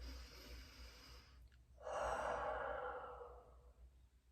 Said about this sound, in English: when you breathe onto this crystal, you are breathing that creation into it.